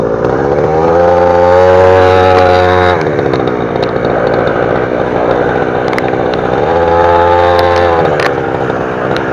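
A children's 49cc mini motorcycle engine revs loudly up close on a stadium track, holding a steady high drone for a few seconds, dropping back, then rising again in a second rev.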